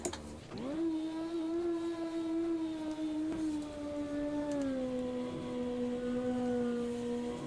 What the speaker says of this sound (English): scream the engine up about there.